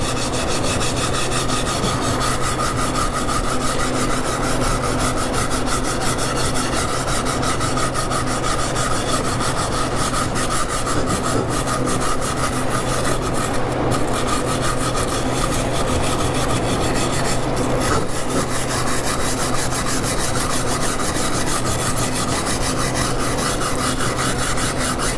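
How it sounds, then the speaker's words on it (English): A small brush scrapes charred wood on a piece for an entertainment center. The rasping is loud, close and continuous, a steady scratchy rubbing that lasts the whole stretch with no voices. "just kind of scrape out all that charred stuff."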